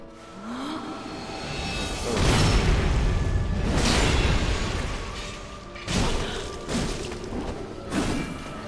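Heavy booming explosions and crashing thuds during the Friede boss fight in a video game, with a big sustained blast followed by several sharp impacts and whooshes, loud and close.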